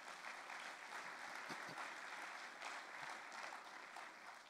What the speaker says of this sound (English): Now that deserves a round of applause also.